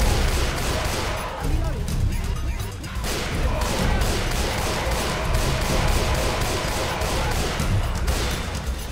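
Dense video game gunfire in Left 4 Dead 2, rapid crackling shots and crashes running steadily throughout at high loudness.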